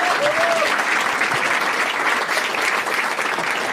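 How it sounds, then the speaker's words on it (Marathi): Sustained applause from a comedy show audience, steady and dense throughout, a crowd clapping together at a stand-up crowd work set. "चला याच्या आधी टाळ्या वाजवा एकदा"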